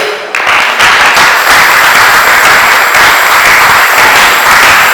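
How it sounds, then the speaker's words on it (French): A church congregation breaks into loud, sustained applause during a Sunday service, dense clapping rising sharply after a brief quieter start and holding steady throughout. "Oui, donnez un tonnerre d'acclamation."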